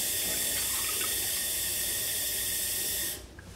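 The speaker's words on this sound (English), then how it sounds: "fill up your bowls with cold water" Cold water runs from a tap into bowls in a steady, loud hissing splash, then cuts off abruptly near the end, leaving a quiet room.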